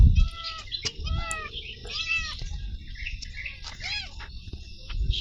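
A pet cat called Unnipoocha meows several times in short, distinct calls, fairly close, with scattered rustling and thumps between them and a few faint voices in the background.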